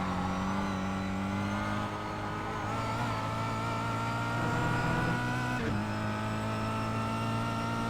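Kia Cup race car engine in a racing video game at Imola, droning steadily at high revs with a slight pitch dip and a brief lift around a gear change, loud and continuous with no talk.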